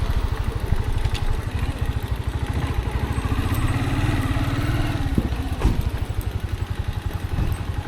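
Motorcycle engine idling in Shangri-La, Yunnan, China, a steady close mechanical chug with rapid regular pulses and light clatter throughout, with faint outdoor background sounds.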